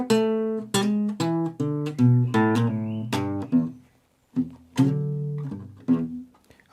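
A slow delta blues guitar solo played alone, with plucked single notes and bends ringing out one after another, a short pause midway, then more sustained phrases.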